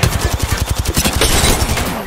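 Rapid automatic gunfire in Apex Legends, a steady stream of close, loud shots in quick rhythm filling the whole burst.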